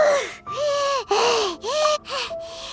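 Video game characters in Genshin Impact pant and catch their breath: a few loud, close, voiced gasping breaths in quick succession, each rising and falling.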